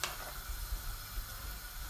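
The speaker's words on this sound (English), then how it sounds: "I'm just gonna be frying this similar to how I fry my bakes" Dough for St. Lucian dhal frying in hot oil sizzles steadily, a continuous bright hiss with soft low bubbling underneath, close and fairly loud.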